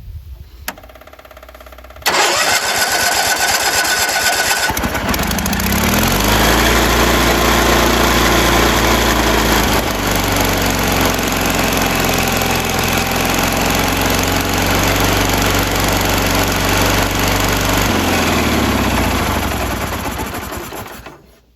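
A 1979 Sears yard tractor with an Onan engine, fitted with a different carburetor, starts up and runs loud and steady for about twenty seconds, revving a little high with a rough, chugging drone before shutting down.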